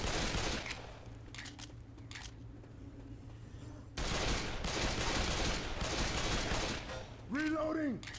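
Sustained automatic gunfire from Left 4 Dead 2 rattles in loud continuous bursts, pauses briefly, then resumes with another long volley, with voices speaking over the shooting.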